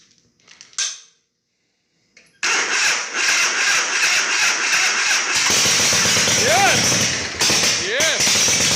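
A Harley Shovelhead chopper motorcycle fed from a small IV-style gas tank cranks with a few short bursts and a pause. It then catches and runs loud and rough with a steady roar, and brief tonal sweeps can be heard over the engine.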